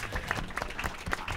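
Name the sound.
round of applause for a panel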